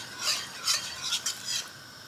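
A spoon stirs a lumpy pasta bake mixture of cream and seasoning in a pan as it heats, giving five or six close, soft scraping swishes in a steady rhythm, with no voices.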